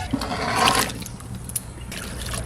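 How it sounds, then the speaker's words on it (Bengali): Water is poured into a karahi for boiling taro, a close splashing gush at the start that eases into trickling, then picks up again briefly at the end. "কড়াইতে জল দিয়ে দিচ্ছি"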